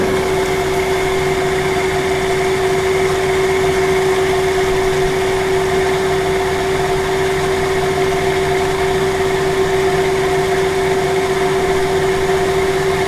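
A Kaplan turbine runs under applied load on a laboratory test rig at around 500 RPM, a loud, constant mechanical hum with a strong steady tone and broad noise, unchanging and with no talking.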